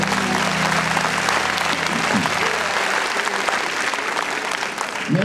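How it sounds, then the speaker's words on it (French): Audience at an awards ceremony applauding, dense sustained clapping from a crowd that continues steadily throughout, with a voice briefly audible in the opening moments. "Et je vous demande d'applaudir."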